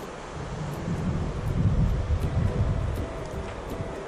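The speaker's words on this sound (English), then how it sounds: "here you can see some of the Stanislaus River. And boy, is it just rushing right through there." Stanislaus River rushing at Knights Ferry, California: a steady, broad roar of fast-flowing water heard from the bank, continuous and fairly loud, mixed with some wind buffeting on the microphone.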